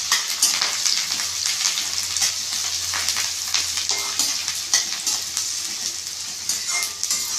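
Onions sauté in a pan with curry leaves for a bitter gourd kuzhambu, giving a steady close sizzle and frying hiss broken by small crackles and stirring scrapes, with no talk.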